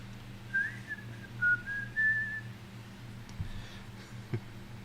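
A person whistles a short, lilting tune in a few quick phrases over a low background hum.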